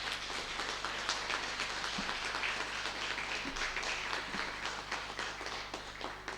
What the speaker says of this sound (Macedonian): Затоа ја мислам еден аплауз за Златица сега.